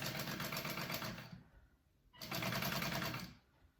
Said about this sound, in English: top stitching this piece down